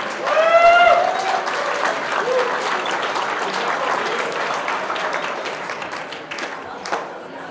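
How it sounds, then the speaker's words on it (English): Audience applause at a children's club annual gala fills the room with steady, dense clapping, loudest in the opening second with a brief cheer or whistle, then holding even before tapering slightly near the end. "Let's give them a round of applause while they get their picture taken."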